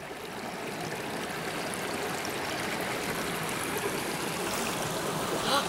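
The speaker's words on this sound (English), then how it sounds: "This small gurgling stream reveals hidden inhabitants." A small gurgling stream at Opal Creek, a steady close wash of trickling, bubbling water running without pause and gently swelling toward the end.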